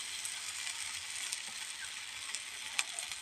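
Greens fritters (shaker bora) fry in hot oil with a steady, close sizzle and a few small pops and crackles, alone without talk.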